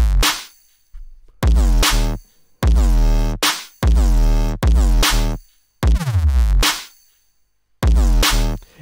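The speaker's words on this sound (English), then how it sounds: "Yeah, so the drums together with the sub sound like this." Hybrid trap drums with heavy sub bass pound in loud, clipped bursts, with deep booming bass hits and sharp percussion in a steady rhythm separated by short pauses.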